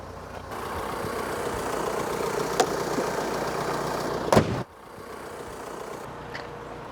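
Van engine idling after a jump start on a flat battery, a steady low rumble close by with a couple of brief clicks, easing to a quieter idle near the end.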